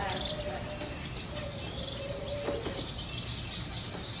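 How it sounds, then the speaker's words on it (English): A small bird chirps faintly outdoors with a few thin, brief tweets above a steady hiss of ambient background noise. "This little bird just landed on Joseph of his own free will"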